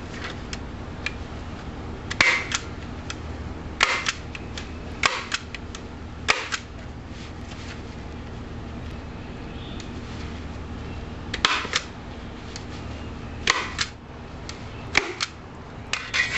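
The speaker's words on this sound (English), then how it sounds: "Just push these in, staple right up them." Staple gun fastening material during a 14-foot jon boat project, sharp isolated snaps spaced irregularly over a low background hum, some in quick pairs.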